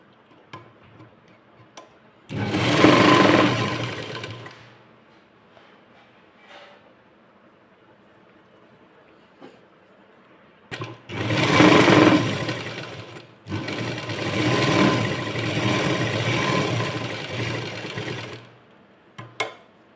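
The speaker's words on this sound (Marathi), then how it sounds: "आता याला परत आपण खालून टीप घालून घेऊ, टीप मारून घेऊ." A sewing machine stitches a sleeve lining in three loud whirring bursts of rapid needle clatter, the last running several seconds, with quiet pauses and small handling clicks between.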